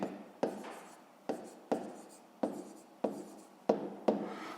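Pen or chalk scratches steadily as a math solution for a fifth-grade lesson is written out, with about seven short repeated strokes, each starting sharply and then fading.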